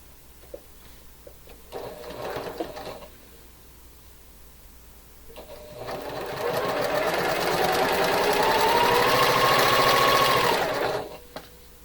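Sewing machine stitching quilt pieces, with a short burst of stitching followed by a longer steady run that holds an even pace, close and fairly loud.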